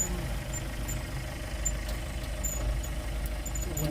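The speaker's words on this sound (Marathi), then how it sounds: "ट्रॅक्टरला लावले टोचन" A steady, low tractor engine drone chugs evenly without pause while towing on a road, rumbling close by with no voices present.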